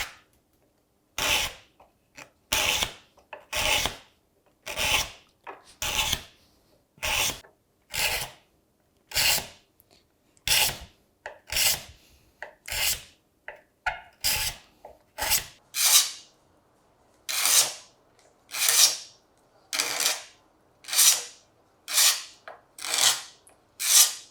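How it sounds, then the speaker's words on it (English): A gooseneck scraper works the table-saw-cut cove on the wooden ogee bracket feet of a serpentine chest of drawers, giving a steady run of about twenty rhythmic rasping strokes that grow faster and closer together toward the end. "the gooseneck scraper."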